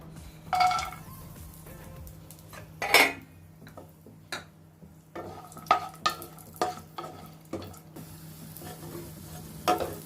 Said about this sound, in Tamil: நெய் சேர்த்துட்டு நம்ம எடுத்து வச்சுருக்க முந்திரி பருப்பெல்லாம் போட்டு லைட்டாக வறுத்து எடுத்துக்கலாம்.